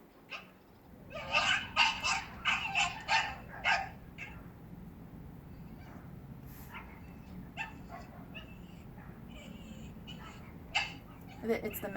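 A dog named Lucy, left alone with separation anxiety, barks in a quick burst of loud, high yips, then drops to intermittent whining and whimpers that run on to the end, with a few sharper yelps near the close.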